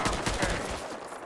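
Rapid gunfire from a Vertibird aircraft in the video game Fallout 4, a loud rattling burst of repeated shots that fades into a fainter wash of sound.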